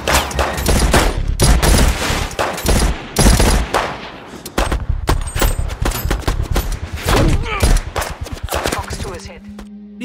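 Rapid bursts of automatic gunfire in a movie shootout between a squad and Berlin police, loud and close, with dense volleys and short gaps over about ten seconds.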